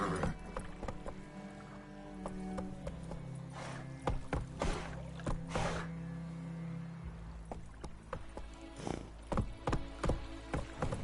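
Geralt's horse Roach gallops in The Witcher 3 video game with steady rhythmic hoofbeats close by. The clip-clop runs over ambient game noise and a few louder thumps.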